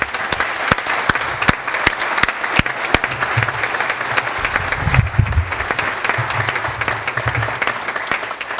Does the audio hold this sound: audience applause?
yes